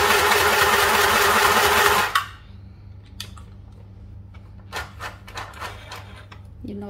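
A mini sewing machine run with a foot pedal stitches briefly with a loud mechanical whirr, then stops, leaving faint clicks and handling sounds.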